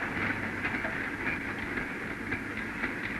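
A British Rail electric train on a high-speed test run gives a steady, continuous rolling roar with faint rhythmic clicks of wheels over rail joints, heard from inside an instrumented observation coach.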